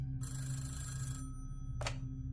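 An old-style telephone bell rings in a long metallic burst, stops, then gives a short second ring over a low steady hum.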